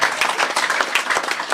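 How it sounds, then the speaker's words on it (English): Sustained audience applause at a ceremonial budget bill signing, a dense, steady patter of many hands clapping together for about a second and a half without a break. "That you can clap for that."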